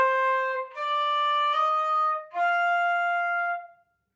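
Clear solo flute playing notes slurred two at a time, three or four smooth pitch steps in a short legato phrase, close and alone, ending in silence.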